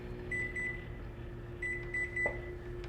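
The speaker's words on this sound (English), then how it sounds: "we're gonna take and put it in the microwave for like 10 minutes or less, depending on your microwave" A microwave oven hums steadily at close range while heating food, with a constant low drone and faint high whine throughout, plus a few short electronic beeps.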